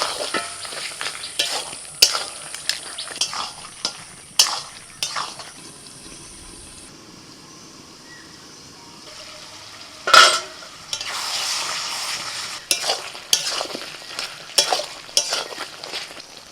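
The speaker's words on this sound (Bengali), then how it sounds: "বেশ কিছুক্ষণ মটনটাকে ঢাকা দিয়ে দিয়ে কষিয়ে নিয়েছি।" Mutton frying in a pan with Kashmiri chili powder and whisked yogurt, stirred and scraped with a utensil; steady sizzle with clinking and scraping strokes, a brief louder burst midway, no talking.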